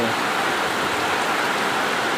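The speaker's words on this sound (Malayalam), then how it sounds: "നല്ല അടിപൊളി മഴ." Heavy rain pours down in a dense, continuous roar, loud and unbroken throughout with no voices over it.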